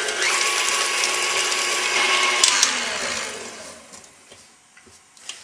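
Banana bread batter beaten until smooth, a loud steady whirring, rattling mechanical drone up close that winds down after about three seconds, leaving a few quiet knocks afterwards.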